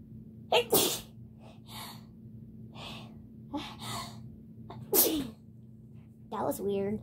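Several sharp sneezes burst out in quick succession, each preceded by a gasping breath, close and loud over a low background hum.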